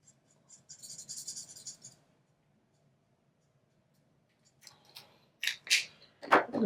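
Scissors snip through paper card for a birthday card, with a quick crisp cutting run, a pause, then several sharper close snips and rustles.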